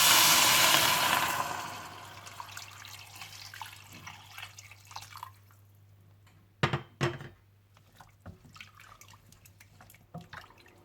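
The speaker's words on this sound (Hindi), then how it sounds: "और 1 लीटर पानी डालकर अच्छी तरह से मिला लीजिए" A short stream of water pours into a pot at the start and tapers off, then quiet with a few metallic knocks and clinks.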